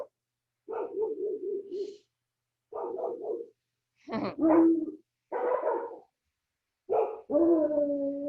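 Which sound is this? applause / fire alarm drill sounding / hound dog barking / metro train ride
hound dog barking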